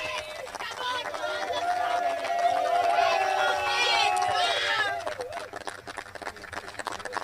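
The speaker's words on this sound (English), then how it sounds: "he is still cheering for you all" Crowd at a cricket match prize ceremony cheering and shouting loudly for about five seconds, with whistling tones and a babble of voices, before the noise drops back to general chatter.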